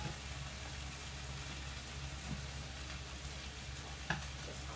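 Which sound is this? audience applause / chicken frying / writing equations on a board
chicken frying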